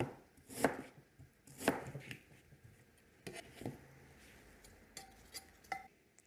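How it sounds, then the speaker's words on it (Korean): A pear is sliced thin with a knife on a cutting board. The quiet, sharp chops come in separate clusters, close up, with faint clinks and no talk. "배는요, 이렇게 납작하게 이렇게 썰어 넣으면 됩니다."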